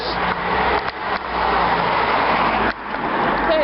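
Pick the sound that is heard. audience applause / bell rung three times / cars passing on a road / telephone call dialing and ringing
cars passing on a road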